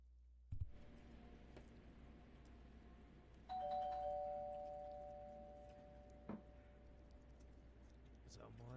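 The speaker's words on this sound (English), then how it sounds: "Someone's ringing the doorbell." Doorbell chiming inside a horror video game: a soft click, then a ding-dong tone ringing out and slowly decaying, followed later by a brief knock-like thud, all faint against a quiet background.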